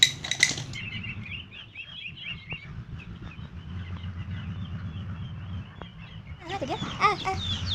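Chicken chicks chirp in quick, high repeated peeps close by, with bursts of chirping and people talking nearby.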